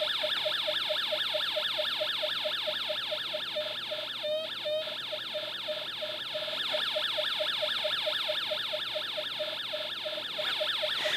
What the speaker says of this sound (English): listen to the output of the speaker there with the siren